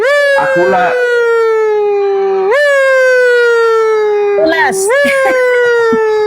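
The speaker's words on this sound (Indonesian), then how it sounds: "ambulans" An ambulance siren wails loud and close in a steady rising and falling tone with harmonics, under the speaker's ranting commentary, with someone speaking over parts of it.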